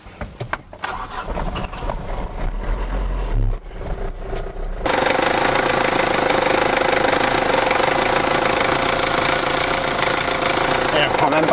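A Ford Ranger engine cranks and knocks roughly, then catches and settles into a loud, steady running roar that holds up close without letting off.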